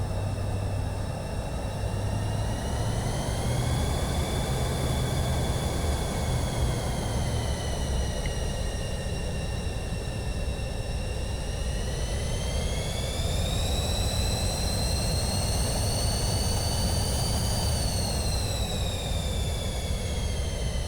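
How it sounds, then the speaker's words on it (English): Twin Williams turbofan engines of a Pilatus PC-24 business jet in Flight Simulator 2024, heard from outside as a loud steady roar with a high whine that slowly rises and falls, running continuously without talk. "let's take a listen to these Williams, not Honeywell, Williams turbofans"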